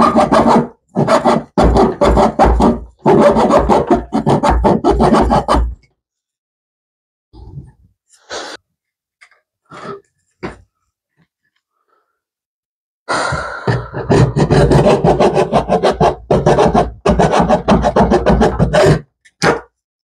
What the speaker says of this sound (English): not much of a handsaw, but hopefully it'll work. It's a little Dollar Tree special